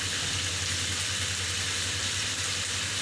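Chop suey with soy sauce stir-frying in a pan, a steady hissing sizzle with a constant low hum underneath, loud and unbroken throughout.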